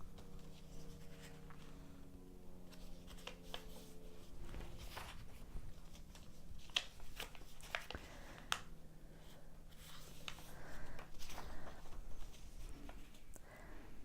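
Paper being creased and folded into a cootie catcher, with soft crinkles, sharp presses along the folds and scattered light taps and rustles, close and quiet.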